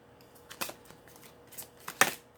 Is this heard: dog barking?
no